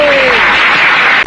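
An audience claps at a political speech, a dense, loud burst of applause from a crowd that fills the whole short moment.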